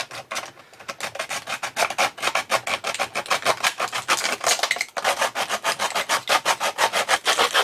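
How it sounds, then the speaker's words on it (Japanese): A hand saw rasps steadily back and forth through a plastic PET bottle, a fast rhythmic scraping that continues throughout, loud and close. "なんかノコギリを動かすというより、このペットボトルの方をこう動かす感じ"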